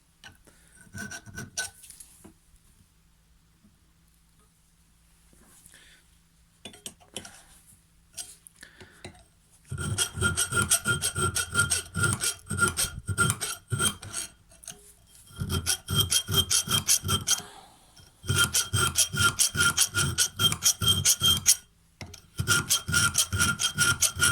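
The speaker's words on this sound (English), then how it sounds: "so I take a 4mm chainsaw file." Rhythmic rasping strokes of a 4mm chainsaw file on metal parts of a Makita DUN500WZ hedge trimmer under repair, close and steady, coming in long bursts separated by brief pauses and a quieter start.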